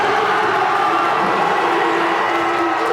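Home crowd at an Albion College men's basketball game against Olivet cheers and shouts steadily in a gym only about a third full, a dense continuous roar filling the space throughout.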